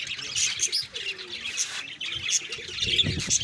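Flock of pigeons from a fancier's loft wheeling over rooftops during a pigeon-flying contest, with scattered bird chirps and calls, soft cooing and faint wing flaps over steady outdoor background noise.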